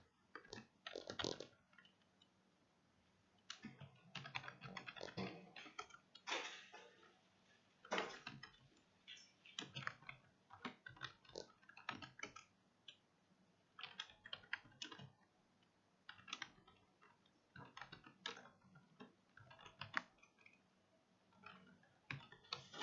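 Arrow keys tapped on a computer keyboard give sparse, faint, irregular clicks and short bursts of keystrokes in a quiet room, with no talking.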